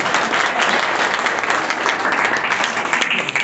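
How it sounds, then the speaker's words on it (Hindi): Audience applause at an RCM business motivational talk: dense, loud, steady clapping from a large crowd that runs unbroken the whole time, with no talking over it. "लेकिन ये तो तालियां।"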